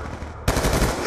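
A sniper rifle shot in Call of Duty Black Ops 2 multiplayer cracks loudly and suddenly partway through, cutting over a low game background and leaving a rumbling tail.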